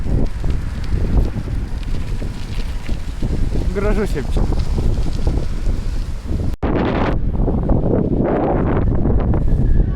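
Strong headwind roars steadily across the microphone of a cyclist riding bike paths, a continuous buffeting rush, with a voice speaking briefly over it.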